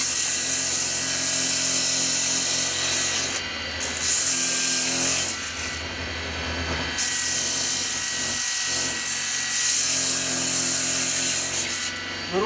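A power sander shapes the handle grip of a homemade lobster tickle stick toward a cork-like feel, giving a loud, continuous high whine with brief dips as the tool is lifted and repositioned.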